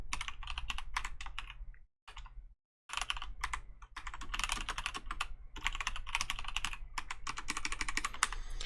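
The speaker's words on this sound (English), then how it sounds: "Man, am I typing today?" Rapid typing on a computer keyboard while coding in Java, a dense run of close, crisp key clicks with two brief pauses, loud and steady, with no talk over it.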